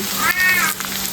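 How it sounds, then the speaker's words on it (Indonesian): A house cat gives a single short meow of about half a second in a kitchen. Cooking sizzles softly in the background, and the meow rises clearly over it. "Itu suara kucing saya, idola Boge."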